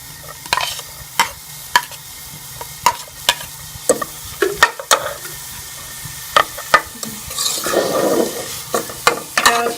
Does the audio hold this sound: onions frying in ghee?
yes